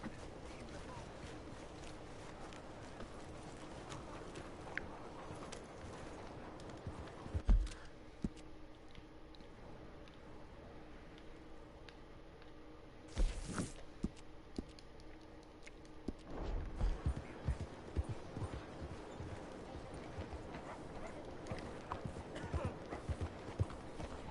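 Horse hooves clip-clop in a western video game, a steady trotting patter with louder bursts around the middle and later on, set under background game music and ambience, with a voice speaking now and then.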